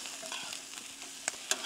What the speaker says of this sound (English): Chuck that garlic in. The zucchini. And my capsicum as well. There we go, give that all a stir around.